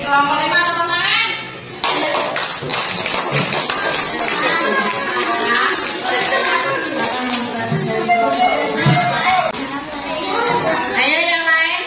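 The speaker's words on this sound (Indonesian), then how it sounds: "Kelompok 5 tepuk tangan." Schoolchildren in a classroom clap for a group of classmates, a burst of scattered, lively clapping that mixes with chatter and children's voices, with more patting and shuffling continuing through the noisy room.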